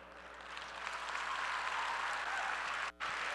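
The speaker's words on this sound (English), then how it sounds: "before you give me a round of applause" An audience at a Muslim convention bursts into applause. The clapping swells from moderate to loud and sustained, then cuts out briefly near the end.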